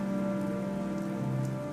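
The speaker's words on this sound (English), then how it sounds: "This is not ordinary rain." Game rain from AFK Journey falls steadily in a dense, even patter over a low continuous tonal music hum, brief and without talking.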